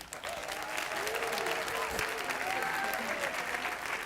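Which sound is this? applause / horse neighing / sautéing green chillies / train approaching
applause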